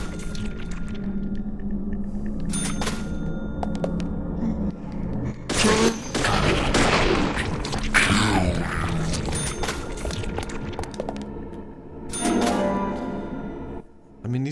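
Gunfire in the video game Deadly Premonition: several sharp bursts of shots, loudest in the middle, heard over game music and ambient noise, with a few more shots toward the end.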